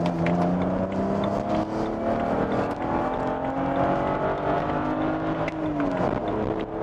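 A car engine revs with its clutch delay valve removed, giving a steady, fairly close mechanical drone whose pitch climbs gradually as the revs build, with a brief dip and recovery near the end.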